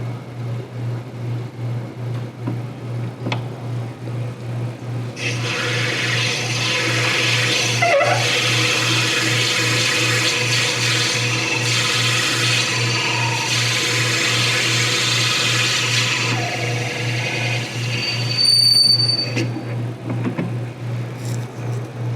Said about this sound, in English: When I drill about 600 RPMs, 600, depending on what my lathe will allow me